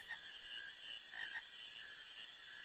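Frog croaking in the video game Final Fantasy IX, a steady run of raspy in-game croaks at moderate, even loudness with a couple of brighter bursts, no voices over it.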